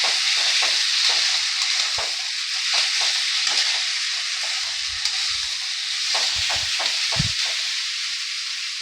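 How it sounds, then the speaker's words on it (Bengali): Spice paste for Bengali ivy gourd sabzi fries in hot oil with a steady bright sizzle, broken by a few stirring clinks and scrapes of the spoon in the pan. "পেস্টটাকে দিয়ে আমি একটু ভাজা ভাজা করে নিয়েছি।"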